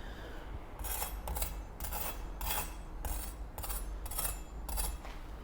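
Crisp, crackly crunches from biting into a roast sweet potato grilled cheese sandwich, eight distinct bursts in an even rhythm, close and fairly quiet with no talking.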